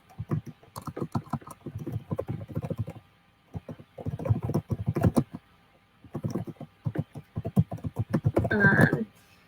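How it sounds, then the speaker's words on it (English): Bursts of brisk typing on a computer keyboard, close and fairly loud, in several runs separated by short pauses, with no voice over them. "So I'll type these into the comments."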